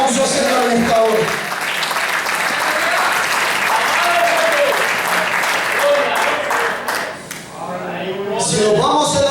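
A church congregation gives a loud, sustained round of applause during a sermon, dense clapping filling the room with voices and cheers mixed in, fading briefly before swelling again.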